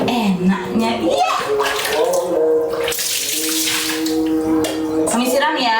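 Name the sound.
water poured over a child being bathed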